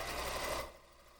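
A brief burst of a sewing machine stitching a table runner, close and steady, then cutting off to quiet.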